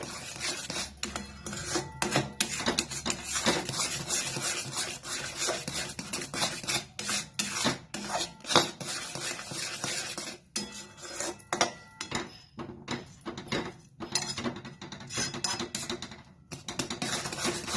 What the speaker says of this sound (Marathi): आता हे चांगलं घट्ट होईपर्यंत हलवायचं.